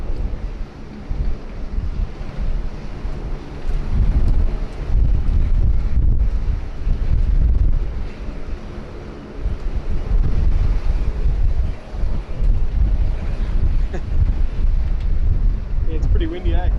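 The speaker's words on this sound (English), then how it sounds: "it's pretty windy, eh?" Wind buffets an outdoor microphone at Sydney Airport, a loud low rumble gusting steadily through the whole stretch, with a person talking over it.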